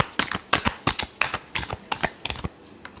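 Tarot cards are shuffled in a brisk run of about a dozen sharp riffling bursts, loud and close, with no talk.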